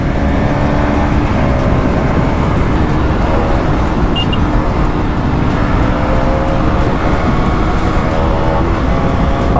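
A 125cc motorbike racing a 250cc bike on a road, heard as loud, constant rushing engine roar and heavy wind noise from the rider's position, with passing traffic mixed in and no clear voices.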